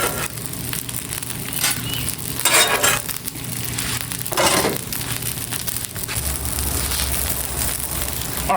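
Scrambled eggs frying in butter on an Aldi griddle hiss and sizzle steadily up close, broken by louder bursts of crackling and light metallic clinks of a utensil.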